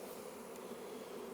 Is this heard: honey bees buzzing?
yes